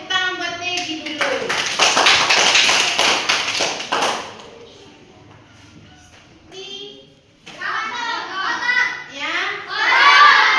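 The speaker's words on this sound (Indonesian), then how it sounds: "Tepuk tangan buat Tegi dulu" A classroom of young pupils claps together for a classmate, a dense burst of hand claps lasting a few seconds before fading, with children's voices and a teacher speaking around it.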